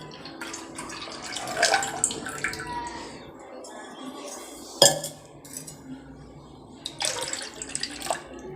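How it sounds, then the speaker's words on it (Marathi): Milk poured into a copper pot used for making buffalo colostrum sweet, swirled around to rinse the sides, with faint liquid sloshing, scattered metallic clinks and a sharp knock near the middle, close by and without talk. "ह्याच तांब्यात आपल्याला हे असं दूध घालून चांगलं जरा खंगळून घ्यायचं"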